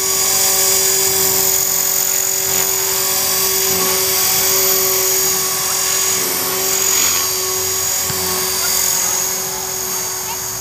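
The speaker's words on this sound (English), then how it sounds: "Oh, it's flying really nice." A 450-size RC helicopter fitted with a new elevator servo and carbon blades flies close by. Its high, steady whine holds constant with slight swells in intensity throughout, and no other sound intrudes.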